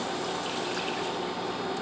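Two cups of milk pour into a pan of cooked flour for béchamel sauce in a steady, dense gushing stream that holds even and close throughout.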